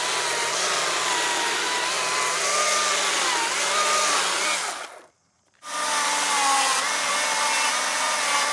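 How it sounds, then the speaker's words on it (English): An electric chainsaw used to clear brush and undergrowth on muddy land runs with a steady, loud whine, cuts out briefly for about half a second, then starts again. "I'm a huge fan of electric chainsaws for how safe they are"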